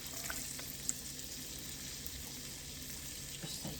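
Onions frying in a pan with bacon lard, a steady soft sizzle with occasional stirring clicks, fairly quiet and close, with no voices.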